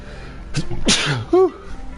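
A single sharp sneeze, close and loud, with a short breathy buildup and a brief voiced sound right after.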